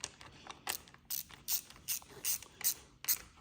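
A hand ratchet clicks in short, quick bursts while tightening the throttle clamp on a Beta XTrainer 300 motorcycle, about eight close, crisp runs of clicks with brief pauses between them.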